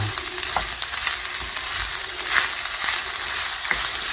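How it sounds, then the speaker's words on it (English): Rice heats up with parsley in a hot pan, giving an even, close frying hiss dotted with soft stirring scrapes and light taps, and nobody speaks. "All we want to do now is let this rice heat up."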